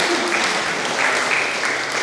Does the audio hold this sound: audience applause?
yes